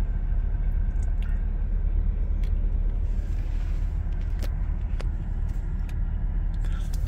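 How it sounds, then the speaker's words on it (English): A 2003 GMC Yukon Denali engine idles with a steady, even low rumble and broadband hum, joined by occasional small clicks and ticks. "This idle is absolutely perfect."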